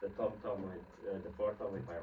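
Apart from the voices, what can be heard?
No everyday noises stand out.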